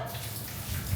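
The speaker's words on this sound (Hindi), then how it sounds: "हमारी मम्मी पानी भरन लाग रही है" Tap water runs steadily into a pot in a continuous, fairly close gushing stream, with no talk over it.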